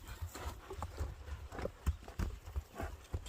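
A chestnut horse walks on a hard surface, its hooves clip-clopping in an uneven rhythm of close, distinct knocks over a low background rumble.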